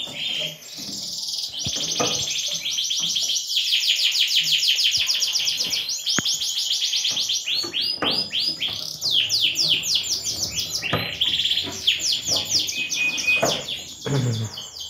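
Canary chicks chirp in a dense, continuous chorus of rapid, high-pitched peeps and trills. The calls are close and loud and overlap throughout, with a few brief sharp clicks.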